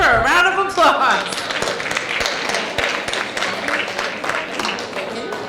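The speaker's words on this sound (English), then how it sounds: "Let's give her a round of applause." An audience applauds at an evening community oratorical contest and art competition event, the clapping steady and fairly loud throughout, with voices mixed in at the start.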